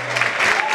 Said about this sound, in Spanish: Fuerte el aplauso para Daniel.